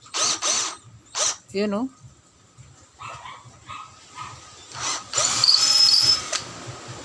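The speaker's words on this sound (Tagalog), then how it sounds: "napakasolid guys itong klase na cordless hammer drill" A DCA cordless hammer drill bores into wood in several short bursts, then a longer steady run near the end, with a dog barking in between and someone briefly speaking.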